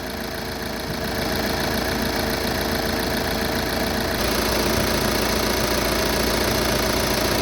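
A Volkswagen Caravelle van engine idles with a constant mechanical hum and faint knocking rhythm, its tone shifting slightly partway through as a newly fitted Denso AC compressor kicks in.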